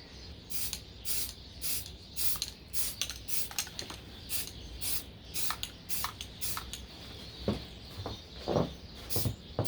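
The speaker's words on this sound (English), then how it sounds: "We're going to start by shaking up our paint and applying a thin layer of paint over the whole body of the replica." Short hissing bursts of spray paint from an aerosol can are applied over the body of a Krytac LVOA-S airsoft replica, coming in a steady series of close, repeated sprays with small handling noises between.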